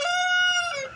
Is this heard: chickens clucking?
yes